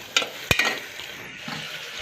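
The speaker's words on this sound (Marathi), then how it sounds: "परतून घ्यायचा आहे आपल्याला त्या कांद्यामध्ये नंतर टोमॅटो बटाटा हे सगळं टाकून एकत्र करून घ्यायचं आहे" Onions sautéing with tomato and potato in a pan, a soft steady sizzle broken by a couple of sharp spatula scrapes and stirs, close and fairly quiet with no talking.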